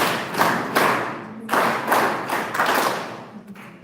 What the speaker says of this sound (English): We give you a good clap.